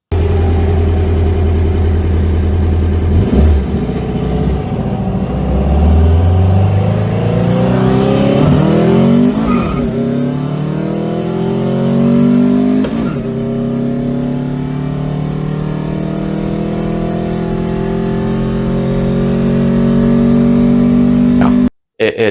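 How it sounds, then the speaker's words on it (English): Air-cooled VW engine fitted with dual 40 IDF carburetors revs hard and close, climbing sharply in repeated pulls with throttle blips before cutting off abruptly at the end. "car with dual 40 IDFs"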